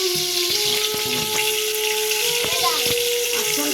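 Panch phoron spices sizzle steadily in hot oil while cooking a rui fish curry with mustard and poppy seed, a continuous close frying hiss with occasional clinks and stirring, under a voice talking.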